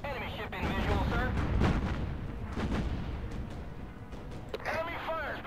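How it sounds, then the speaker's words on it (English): Enemy warship guns fire in the naval video game Battlestations Pacific, a series of deep booming blasts and rumbling impacts, fairly close, with voices talking over the barrage. "Enemy fire's being directed at us"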